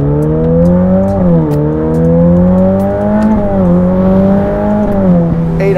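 A Novitec Ferrari F8 N-Largo with a 3.9-litre twin-turbo V8 drones loudly from close inside, its pitch rising and dipping through several gear changes as it accelerates hard, with no talk.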